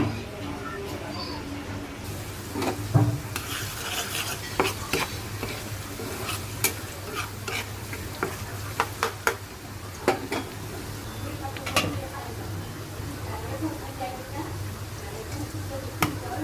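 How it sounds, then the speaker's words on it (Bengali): Onions sizzle and fry in oil on a stove for egg bhuna, a steady close crackle with scattered sharp clinks and stirring scrapes, while a person talks over the cooking. "এখন এই চুলায় ডিম ভুনার জন্য পেঁয়াজ দিলাম আর তেল পেঁয়াজটা ভালো করে ভাজবো"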